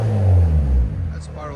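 A 2020 Hyundai Elantra with its turbo resonator and muffler deleted idles with a low, smooth rumble as someone talks over it in a brief moment.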